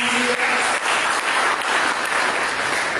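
A church congregation claps together in a dense, steady burst of applause that fills the hall at close range, loud and sustained throughout with no talking over it.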